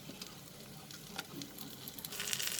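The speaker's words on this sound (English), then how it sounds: "So I'm going to add the green chilies now and the cashew nuts and fry it for a minute." Green chilies and cashew nuts fry with garlic in a pan, a soft continuous sizzle with light crackles that grows a little louder toward the end.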